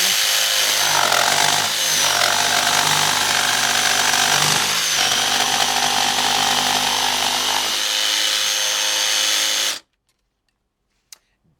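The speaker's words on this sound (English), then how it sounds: "This is the 5 amp hour battery." A DeWalt cordless power tool fitted with a 5Ah battery runs at a steady, loud, high whine for almost ten seconds, then cuts off abruptly into near silence.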